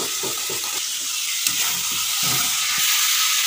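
Spices and sugar with sour yogurt frying in a pan while being stirred, a steady loud sizzle and hiss with repeated scraping strokes of the spoon throughout.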